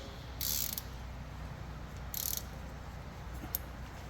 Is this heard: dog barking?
no